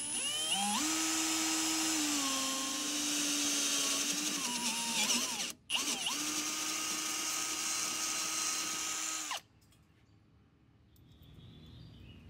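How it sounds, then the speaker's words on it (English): A 5/16 inch bit, lubricated with oil, drills through the factory Panhard bar mount on an S197 Mustang, a loud, steady, high-pitched drill whine close by that dips briefly mid-cut, then stops, leaving quiet shop ambience. "Use a 5/16 inch drill bit, lubricated with oil, to make the hole."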